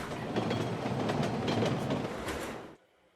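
Metro train ride in the Barbie My Scene video game, a steady rumbling rail clatter with rhythmic clicks that runs loud and even, then cuts off abruptly near the end.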